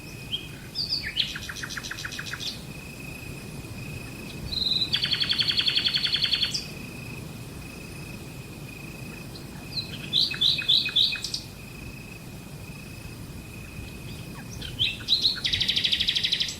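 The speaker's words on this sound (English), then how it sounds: "nightingales sing as evening falls" Nightingales singing at dusk in vineyards of southern France, clear repeated whistled phrases and rapid chirp trills in bursts, fairly close over a quiet hum.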